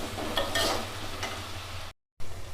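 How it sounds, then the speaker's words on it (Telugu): Ginger garlic paste frying in a pan for a mushroom curry, a continuous close sizzle with a couple of brief stirring scrapes, then a short gap of silence before the sizzle resumes; no talk. "అల్లం వెల్లుల్లి పేస్ట్ ఒక 2 స్పూన్లు వేయండి. వేసి బాగా ఫ్రై చేసుకోండి."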